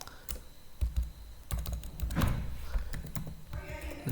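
Typing code on a computer keyboard while solving a LeetCode Pow(x, n) problem in Python, with irregular clusters of close, crisp key clicks and a few heavier thumps.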